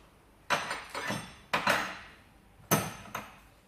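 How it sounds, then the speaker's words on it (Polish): Sharp metallic hammer blows ring out in pairs, knocking out a bolt while replacing an Opel Astra control arm ball joint; several strikes with short pauses between, close and fairly quiet, with no voices. "Bierzemy sobie młoteczek i wybijamy."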